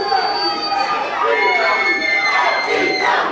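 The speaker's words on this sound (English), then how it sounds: "listen to the crowd now. They're chanting FEW." A rowdy crowd at a live FEW vs TNA tag-team wrestling match chants and shouts together in loud, rhythmic waves that keep going the whole time, with no single voice standing out.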